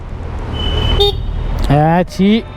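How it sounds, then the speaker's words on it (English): A Kawasaki Ninja 1000's cheap horn beeps a few times in short, close bursts, with the low rumble of its inline-four engine running underneath. "cheap horn, man"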